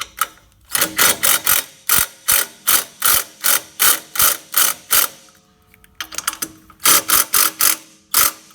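Small 40 Nm impact gun hammering on the rear shock bolts of a Toyota Land Cruiser: two long runs of sharp, evenly spaced rattling blows, loud and close, split by a brief pause and no talking.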